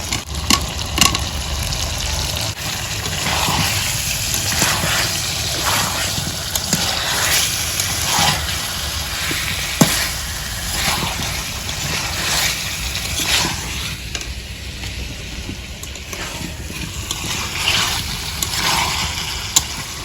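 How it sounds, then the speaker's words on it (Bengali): Hot water pours into a simmering chicken and taro curry on the stove, a long steady gushing and bubbling hiss with scattered splashes and pot knocks, heard up close with faint voices in the background. "গরম জল দিয়ে দিবে এখন গরম করা জল গরম গরম জল দিয়ে দিল"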